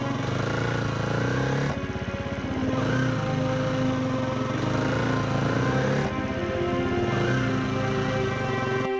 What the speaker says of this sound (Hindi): कावेरी ने पिंकी को गोद में उठाया और पड़ोसी की बाइक पर अस्पताल पहुंची।